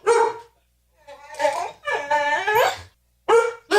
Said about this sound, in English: it's a really noisy dog